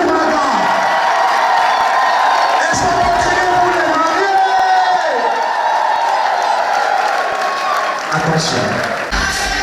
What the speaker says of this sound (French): je vais demander maintenant à tous les invités de faire un maximum d'acclamations et de bruit